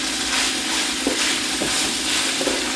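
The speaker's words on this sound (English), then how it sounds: "We can give this a mix." Shepherd's pie filling with chopped tomatoes being stirred in a pan, a steady close sizzle of frying under a few soft scraping stirs, with no talking.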